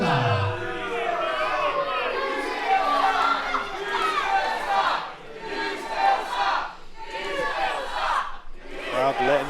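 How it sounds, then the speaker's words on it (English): A large wrestling crowd at a live pro wrestling show roars and jeers at wrestler David Francisco, loud sustained shouting and chanting that swells and dips in waves, with voices mixed throughout. "Crowd letting their feelings known to David Francisco"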